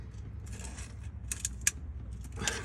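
A filter wrench grips and turns the oil filter on a 2007 Chevrolet Tahoe with 250,000 miles, giving off soft mechanical creaks and ratcheting clicks with a few sharper metallic ticks, close by and fairly quiet.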